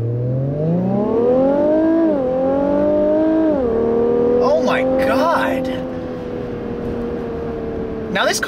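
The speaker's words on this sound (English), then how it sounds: "Wow, they really outdid themselves with this new twin turbo V6." A 2016 Infiniti Q50 Red Sport 400 with a twin-turbo V6 accelerating hard, its engine note climbing steadily through the gears with brief dips at shifts, loud and close from inside the car, with voices exclaiming near the end.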